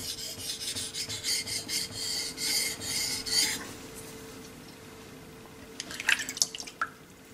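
A knife blade rasps in steady back-and-forth strokes across a wet Belgian coticule whetstone, close and quiet, the strokes fading out before a few brief wet scraping sounds near the end.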